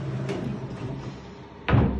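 Bathroom drawer in an apartment being pulled open, a soft slide followed by a sharp knock near the end, close and fairly quiet.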